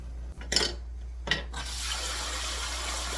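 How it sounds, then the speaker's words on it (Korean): Blanched Korean water dropwort (minari) tipped from a pot into cold water: two quick wet splashing bursts close by, followed by a steady soft rush of running water with no voices. "미나리를 찬물에 확 쏟을 겁니다"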